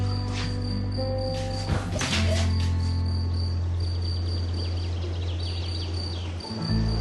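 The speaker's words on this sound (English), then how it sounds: "Do you hear a cricket?" Crickets chirp in a steady high trill throughout, moderately loud and continuous, layered over a low droning hum and brief rustling.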